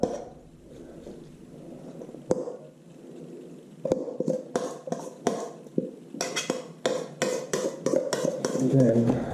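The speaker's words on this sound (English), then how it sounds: "transfer the coleslaw from the mixing bowl" Coleslaw is moved from a mixing bowl into another bowl, with a spoon clinking and scraping against the bowls in irregular, fairly close taps and knocks, some sharp and isolated, others clustered.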